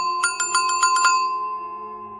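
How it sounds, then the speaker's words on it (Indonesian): An old-fashioned ontel bicycle bell rings in front of a house in a quick burst of about six bright metallic dings, then a fading ring-out, clear and alone. "Terdengar suara seperti bel sepeda ontel dari arah depan rumah"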